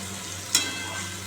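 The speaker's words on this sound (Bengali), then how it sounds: "আমি বসিয়ে দিলাম এটা সিম আর আলু ভাজা কাঁচা লঙ্কা দিয়েছি" Flat beans and potatoes frying in a pan with green chili, turmeric and salt, a soft continuous sizzle broken by one brief sharp crackle or stir, close and without speech.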